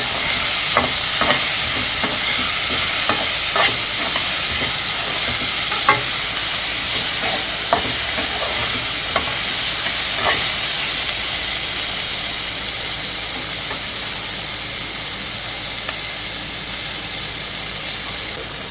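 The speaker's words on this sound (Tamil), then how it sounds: "இப்போ நம்ம இதை நல்லா வதக்கணும்" Amaranth stem greens and onion frying in a pan for a greens mash, a loud continuous close sizzle and hiss with regular spatula scrapes that ease off toward the end.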